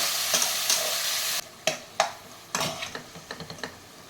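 Tomatoes are stirred and sautéed with onions in a pan for chicken curry. Steady sizzling drops off suddenly, then sharp scraping and tapping strokes of a spoon come one after another over a quieter fry.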